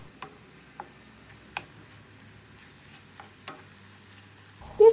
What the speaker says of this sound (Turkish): 500 gram yarım yağlı kıymayı tavada kavuruyorum.